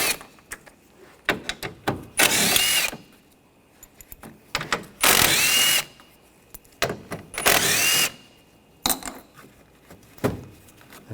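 A power tool with a 7mm socket spins screws out of a 2013-2022 Buick Encore 1.4L during radiator removal, in several loud, close bursts of one to two seconds each, separated by quieter handling clatter.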